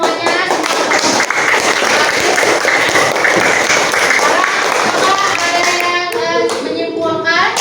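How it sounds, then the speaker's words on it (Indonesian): A classroom of students claps together in a lively, close burst of applause during an Indonesian school lesson, with children's voices chattering over the clapping toward the end. "itu tadi coba tepuk tangan semuanya"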